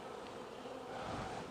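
Honey bees buzz at a beehive fitted with a honey super, a dense, steady, close drone that holds without a break throughout.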